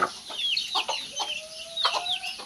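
Chickens being fed boiled taro stems in the morning cluck close by in short, repeated bursts, with a high chirpy call and a faint steady background tone.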